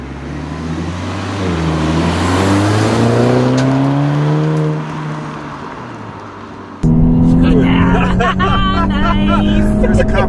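A 2013 Volkswagen Scirocco R driven hard along twisty roads, its engine note rising and falling steadily through the bends, then jumping louder and closer near the end.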